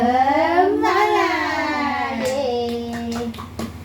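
Children sing a spirit chant in a long sustained tone, followed by a string of sharp, rhythmic hand claps, close and lively.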